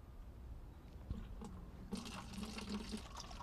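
Rainwater runs from the tap of a garden rain barrel, a soft steady trickle that swells into a fuller splashing flow partway through, heard close and alone.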